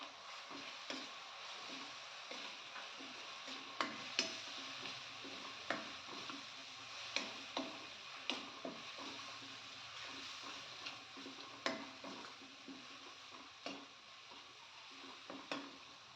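Masala paste sautés in a pan for soya chunks masala, a quiet low sizzle broken by irregular clicks and scrapes of a spatula stirring against the pan.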